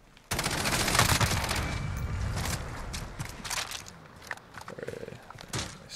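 Sustained automatic fire from a CTAR-21 short-barrel rifle in Call of Duty Modern Warfare, a dense loud rattle of shots that starts abruptly and runs continuously, then breaks into shorter bursts toward the end.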